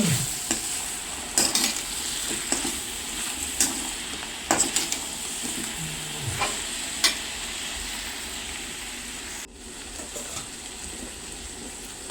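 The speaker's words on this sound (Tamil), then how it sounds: "அதுக்கப்புறம் 2 முருங்கைக்காவையும் போட்டு ஃப்ரை பண்ணிவிட்டு" Brinjal and drumsticks frying and being stirred in a pan for sambar, a steady sizzle with scattered scraping clicks of the spoon, moderately close, and no talk.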